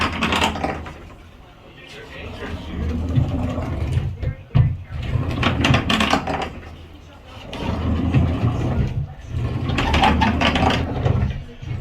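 A pocket door runs back and forth on newly installed rollers, giving a continuous low rumble with faint rattles and a bump midway, while someone talks over it.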